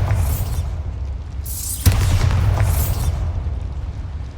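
Bombarda blasting spell detonating in a Harry Potter video game, a sharp explosive crack followed by a rumbling burst and sweeping magical whooshes over a steady low game ambience, with no talking.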